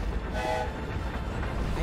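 The Hogwarts Express bearing down in the game Hogwarts Legacy, a loud, close, heavy rumble with a brief horn blast partway through, with voices underneath.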